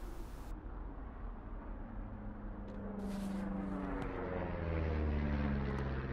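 A propeller airplane drones overhead in the forest setting of Firewatch, a low steady engine hum that swells gradually louder as it passes, with no voices.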